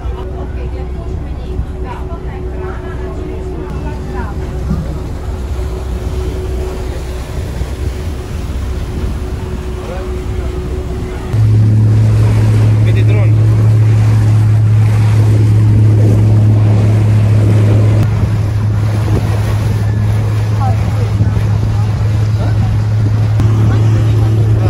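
A large tour boat cruises on the sea off Turkey, its engine a steady low drone that deepens and grows louder partway through, with wind and water rushing around it and people talking.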